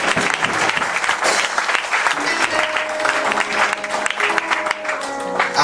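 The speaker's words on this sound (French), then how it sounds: "est-ce que tu peux d'abord acclamer pour la parole de Dieu?" A church congregation claps and cheers together in a sustained, loud burst of applause filling the room, with voices mixed into the noise.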